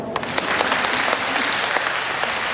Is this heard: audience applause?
yes